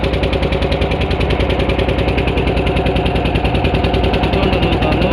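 A motor boat engine drones loud and close with a steady rapid chugging pulse, running continuously while the boat crosses the Jalangi river in Bengal.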